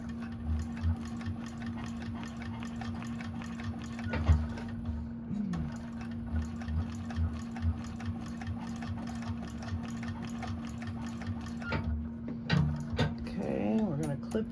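A 1341 cylinder-arm sewing machine runs a seam on a crossbody bag, its steady motor hum and rapid needle ticking carrying through in bursts with brief pauses, with someone talking over it near the end.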